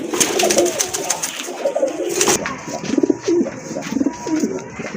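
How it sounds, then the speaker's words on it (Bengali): Beauty Homer pigeons, a large pair, coo repeatedly in low rolling calls, close and fairly loud, with a steady bed of background noise and a few sharper bursts through the middle. "অনেক বড় সাইজের এক জোড়া বিউটি হোমা কবুতর"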